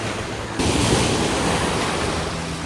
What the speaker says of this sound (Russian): О, какие сегодня волны большие!